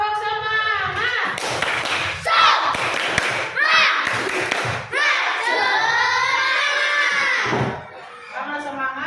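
Children in a classroom perform a rhythmic spirit clap, with bursts of clapping and tapping mixed with shouted chanting voices throughout, fairly loud and close.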